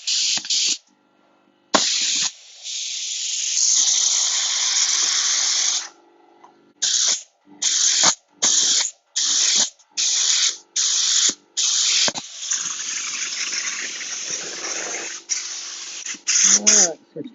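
A compressor-driven spray gun hisses loudly in long bursts, then in a rapid series of short on-off blasts separated by brief silences.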